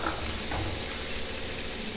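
Chopped carrot sautéing in a pan with ginger garlic paste for a veg burger filling, a steady soft sizzle and hiss throughout with no talking.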